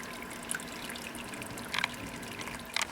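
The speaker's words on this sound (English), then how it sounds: "So yeah, sparge still running out quite nicely" Sparge water draining steadily from a Braumeister malt pipe during a pale ale brew day, a soft continuous trickle with a few brighter drips and splashes standing out, fairly faint with no talking.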